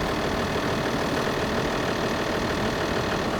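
An air compressor runs nonstop at a desert campsite, a dense, even mechanical rumble with a knocking texture and no change in level, heard alone without voices.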